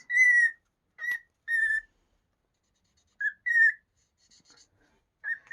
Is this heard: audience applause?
no